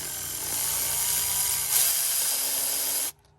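A ratchet or small tool working on the bolts of a Mercedes 2.0-litre M270/M274 oil filter housing, a continuous close mechanical whir for about three seconds that swells briefly and then cuts off abruptly.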